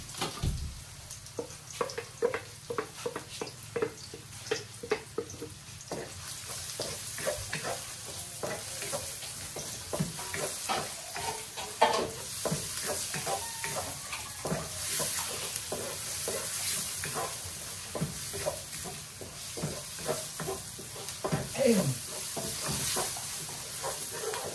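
Chopped onions sauté and sizzle in a pan, with steady frying hiss close by and repeated scraping stirs throughout.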